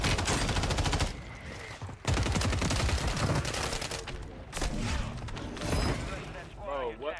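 In a video game, an MTZ-556 rifle fires in rapid automatic bursts, loud and close, with short pauses between them, while a player's voice talks over parts of the shooting.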